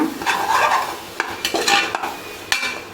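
Biryani masala is stirred in a pot at home, with a metal spoon scraping and clinking against the pot in several distinct knocks over a soft sizzle.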